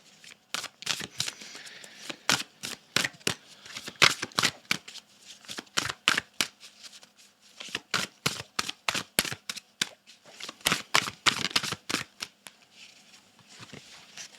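A deck of Amazonian Oracle cards is shuffled by hand in quick repeated riffles, a series of sharp, close flapping bursts with brief pauses between them and no voices.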